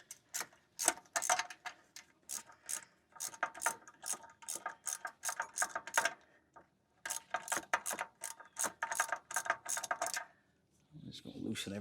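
Ratchet loosening exhaust manifold bolts on a fifth-generation Ram with a 5.7 engine: rapid, close clicking strokes in repeated bursts with short pauses, and a faint voice briefly at the end.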